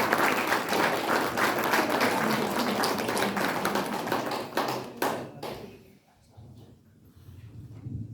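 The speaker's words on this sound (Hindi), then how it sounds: "दीदी के लिए एक बार जोरदार ताली।" An audience claps loudly and continuously at a women's day naturopathy and meditation camp, dense crowd applause that tapers off and fades out near the end, with a little murmuring underneath.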